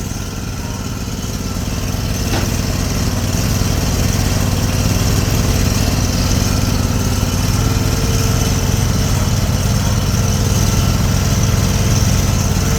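The engine of a telescopic boom machine used around a wood yard, running at a steady, loud drone with a constant throb that barely changes over nearly thirteen seconds, and no talking.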